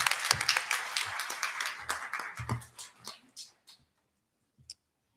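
Applause for a student receiving a state-test achievement certificate at a school district ceremony: a room of clapping hands that thins into scattered claps, trails off after about three seconds, then one last pair of claps.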